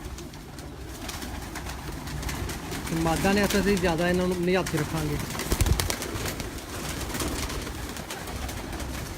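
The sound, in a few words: pigeons cooing, Roshan Chiragh breed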